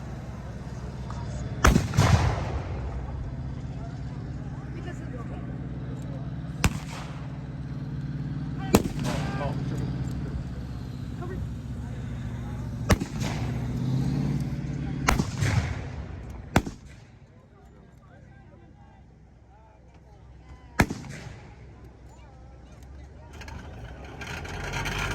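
Artillery pieces firing at a WWII reenactment, a series of sharp booming blasts spaced several seconds apart over a low outdoor rumble, with people talking in between.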